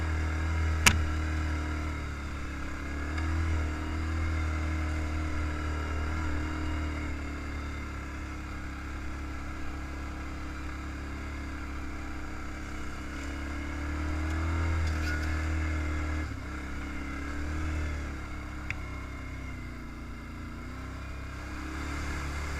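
An old Honda three-wheeler ATV engine drones steadily while climbing a hill, a constant low motor hum with slight swells in load, heard from close by throughout.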